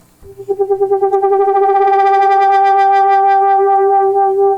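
A sustained 1971 Minimoog Model D synthesizer tone with rich harmonics and a steady wobbling modulation, holding loud and even for several seconds with no voices.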